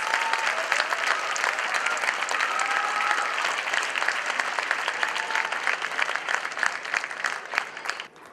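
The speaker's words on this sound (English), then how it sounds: "I think that deserves a huge round of applause" Enthusiastic audience applause fills a hall with dense, steady clapping from many people, loud and sustained for about eight seconds, with a few faint whistles, before tapering off at the end.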